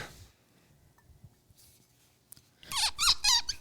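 A wood-topped cork squeaking as it is twisted out of a bottle of Benriach The Twelve Scotch whisky; a quiet pause, then several sharp, close squeaks in quick succession near the end.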